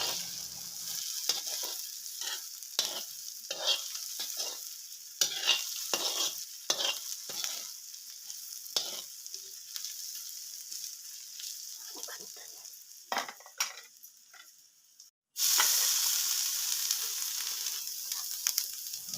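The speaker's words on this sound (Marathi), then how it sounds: "तर आपण कांदा भाजून घेऊया" Chopped onion roasts on a hot tava over a wood-fired clay stove, with a soft continuous sizzle and repeated scraping and stirring strokes. A louder, brighter sizzle bursts in near the end.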